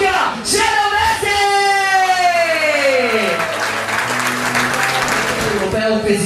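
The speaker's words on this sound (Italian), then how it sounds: "Signore e signori, un grandissimo applauso a Luca Genovese!" A boxing match crowd applauds and cheers for a boxer being introduced, loud and sustained throughout, with yells mixed in and an announcer's amplified voice and a horn-like tone sounding over the noise.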